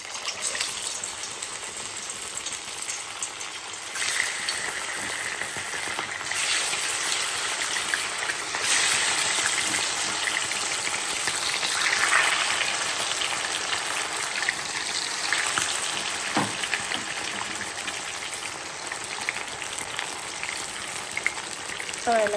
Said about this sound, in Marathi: इकडं मासे फ्राय होऊ लागले